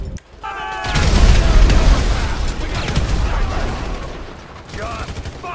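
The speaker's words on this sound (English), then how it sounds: "So I guess we're shooting our way out of here." A loud shootout in Grand Theft Auto V, with dense bursts of automatic gunfire and heavy booms rolling continuously and close, easing briefly before more shots, mixed with game voices.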